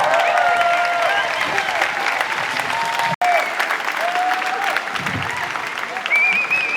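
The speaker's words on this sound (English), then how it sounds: "big round of applause." Applause and cheering from an outdoor protest crowd in a Brussels park, steady and loud throughout, with a brief dropout partway and some voices mixed into the clapping.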